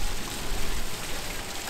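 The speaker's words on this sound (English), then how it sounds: "look at this waterfall." A waterfall in a theme park ride queue area at Chessington World of Adventures, a loud, dense rush of falling water heard up close, steady and unbroken throughout the short stretch with no voices.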